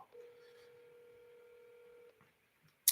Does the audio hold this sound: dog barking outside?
no